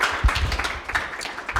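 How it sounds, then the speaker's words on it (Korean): Brief applause from an audience at an orientation lecture, a short burst of clapping at moderate volume. "자 오늘 박수!"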